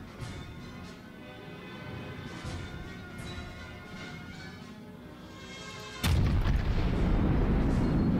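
Rear turret guns of the battleship Musashi fire in a naval warfare video game, a single heavy boom striking abruptly and loud over a low engine and ambient rumble, then a broad sustained roar.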